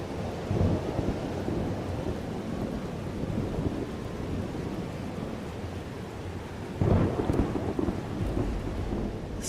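A thunderstorm pours steady heavy rain in Life is Strange Double Exposure, with deep thunder rumbles rolling through and one louder crack near the end, no voices.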